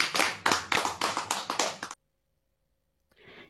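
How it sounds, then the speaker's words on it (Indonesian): About seven sharp, loud hand claps come in a quick, even rhythm, then silence, then a faint burst of noise. "Tepuk tangan."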